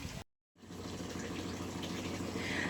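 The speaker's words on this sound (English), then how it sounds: "the sprinkler just went off, delivering water to all my cuttings" A sprinkler in a plant propagator misting water over lemon cuttings, a steady soft hiss of spray after a brief gap, faint and continuous.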